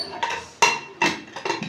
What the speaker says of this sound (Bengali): প্রেসার কুকারের মুটকিটা আটকিয়ে দেব, ঢাকাটা আটকিয়ে দেব।